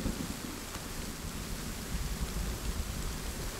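Steady rainfall in The Forest survival game, a dense, even hiss of drops that holds at a constant level throughout with no voices over it.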